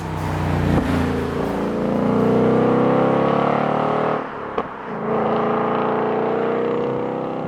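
A 2025 Ford Mustang GT with a V8 engine drives along with a steady, full engine drone and road roar from inside the car. It eases briefly midway and then pulls on again.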